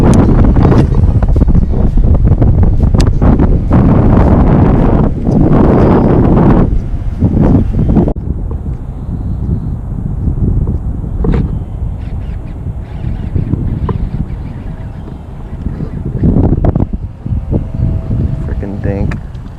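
Wind buffeting hard on a fishing boat out on the water, loud rumbling gusts roaring against the microphone, with voices heard in between.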